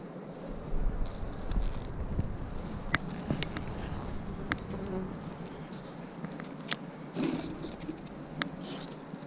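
Honey bees buzz steadily around a honey frame lifted from an Apimaye hive during an outdoor hive check and split, a dense close drone with occasional wind buffeting and brief clicks, no voices.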